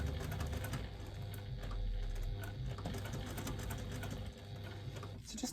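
A sewing machine runs steadily, stitching a seam an eighth of an inch from an existing seam on a small fabric wristlet, with a continuous close mechanical whir and no voices.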